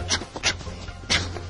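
A dog sniffing and panting in quick, breathy bursts up close while tracking a scent, the rhythmic huffs repeating over a low background hum.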